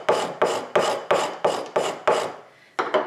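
Hand gouge carving a wooden violin top, taking small shavings: eight rhythmic rasping strokes about a third of a second apart, close and clear, with a short pause before the last two.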